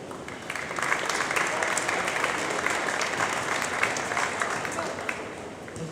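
Sustained applause from a sizable crowd at a high school boys' varsity basketball game, dense and even from start to finish, heard from within the audience.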